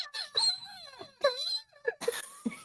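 A voice imitates a hound dog crying, with several drawn-out wailing, whimpering howls that rise and fall in pitch, separated by short pauses and ending in a few rougher yelps.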